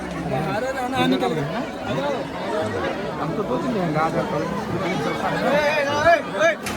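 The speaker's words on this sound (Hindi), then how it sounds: "आप लोग देख सकते हो अभी कितना भीड़ है।" Crowd chatter at the Pandua Sharif Badi Dargah in Malda, West Bengal during the Urs gathering: a dense, steady hubbub of many overlapping voices close around, with a nearby speaker talking over it.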